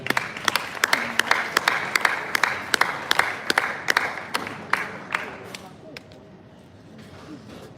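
A conference audience claps to welcome a speaker, loud individual claps close by over a bed of applause that slowly thins and fades out near the end.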